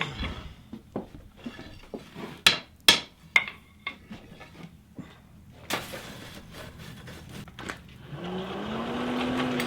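Hammer blows ring sharply on hot iron at an anvil in an 1850s-style blacksmith forge, a rapid cluster of loud strikes followed by scattered lighter taps, then a rising rumble of the forge near the end.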